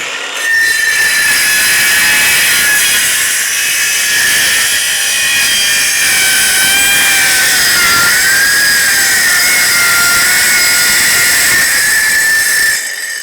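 A DeWalt 936 18-volt cordless trim saw cuts through wood with a loud, continuous high-pitched whine and rasp that holds steady for about twelve seconds before stopping, close up and alone.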